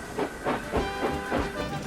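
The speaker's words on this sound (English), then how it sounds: "Thomas was having trouble building up steam" An animated steam locomotive struggling to build up steam gives off repeated rhythmic hissing puffs, about five bursts in quick succession, close and fairly loud with no talking.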